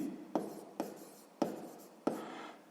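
A pen writes on paper while maths exercise notes are taken, four distinct strokes with sharp starts that fade out, close and fairly quiet with no voice over them.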